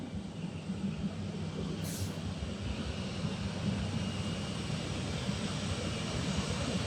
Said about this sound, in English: His Excellency President Boakai is finally departing Liberia